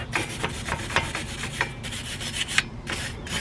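A brake caliper bolt on a Lexus RX330 gets its threads scrubbed clean with a close, continuous scratchy rasping and rubbing made of quick repeated strokes.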